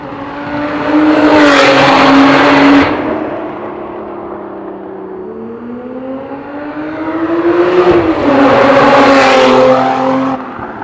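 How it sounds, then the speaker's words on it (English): A V6 sports car makes two loud flybys, each rising to a roaring, revving peak as it passes close and then fading with a falling engine note in between. "I'm gonna make him do some flybys so that you guys could hear one of the best sounding V6s on the market"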